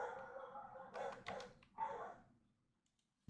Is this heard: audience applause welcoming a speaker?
no